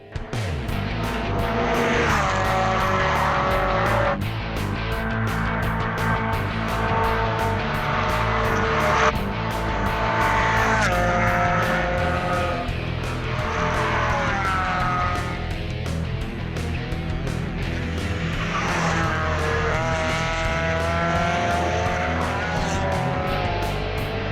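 A 1967 Datsun 411 station wagon races on a track, its engine revving loudly with repeated shifts and pitch sweeps, joined by other engine noise in a continuous, dense drone.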